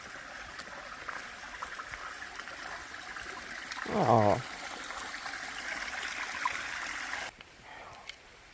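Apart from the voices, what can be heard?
small stream at a trail water source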